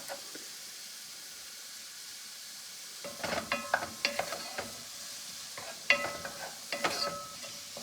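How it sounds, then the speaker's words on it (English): Onions sizzle in oil in a pot while being stirred; after a few quiet seconds come bursts of scraping and clattering spoon strokes over a faint frying hiss, close and without talk. "now I'm going to add in those onions"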